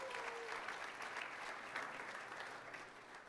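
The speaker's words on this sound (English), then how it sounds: "Let's give a round of applause for Lori." A crowd at a high school basketball awards show applauds a girls' coach of the year finalist, steady dense clapping throughout at moderate distance, with a short vocal sound at the start.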